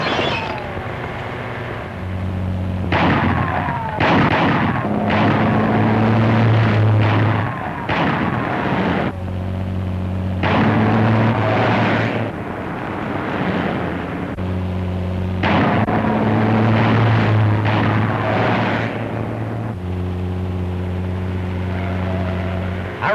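Gunfire and a truck engine in a 1940 Royal Canadian Mounted Police film chase, where bursts of shots crackle over a steady engine drone and music-like tones, loud and continuous with repeated pulses.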